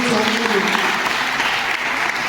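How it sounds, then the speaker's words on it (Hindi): A crowd at a Guru Purnima celebration in a wrestling akhara claps loudly and steadily, dense continuous applause filling the space throughout. "जोरदार आप ताली बजा के उनका भी अभिनंदन"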